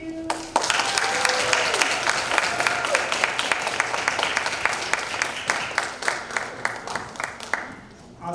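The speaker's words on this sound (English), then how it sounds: "Give them a round of applause right now." An audience at a student project showcase breaks into sustained applause, dense clapping that starts abruptly and carries on loudly for several seconds before thinning out near the end.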